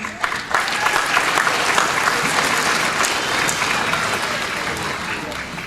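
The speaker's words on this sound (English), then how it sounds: "Please help me give a big round of applause for our fearless leader, our principal, Dr. Ramos Buell" A graduation ceremony audience gives the principal a big, steady round of applause, a broad continuous roar of clapping with crowd noise mixed in.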